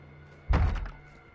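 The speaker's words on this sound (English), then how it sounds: "I hear people banging on doors." Someone bangs on a door in the Call of Duty: Modern Warfare II campaign, giving a single heavy, close thud with a brief rattling decay over a low, steady hum.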